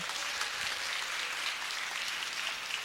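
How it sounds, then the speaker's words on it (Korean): A church audience at a Korean Presbyterian laughter festival in Atlanta gives a round of encouraging applause, a soft, distant, steady patter of many hands. "여러분들 이분들 한테 한번 격려 박수 부탁드리겠습니다."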